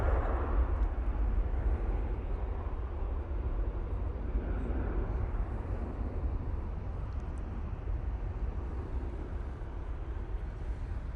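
A Ryanair Boeing 737 takes off from Manchester Airport, its jet engines producing a steady, heavy roar with deep low rumble that holds at an even level throughout, with no voices.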